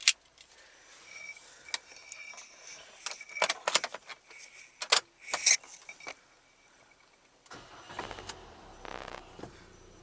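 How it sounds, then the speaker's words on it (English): Car keys for a 2022 Chery Tiggo 2 jangle in several short, bright bursts near the microphone, followed by softer rustling and handling noise with no speech. "I really like these kinds of keys"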